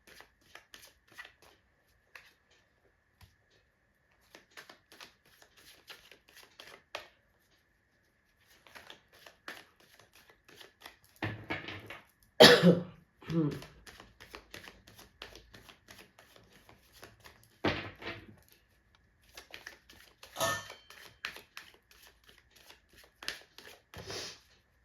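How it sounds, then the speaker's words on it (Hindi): Tarot cards being shuffled by hand in quiet bursts of soft riffling and flicking, with pauses between, one louder slap partway through. "जब तक मैं कार्ड शफल कर रही हूँ गाइज"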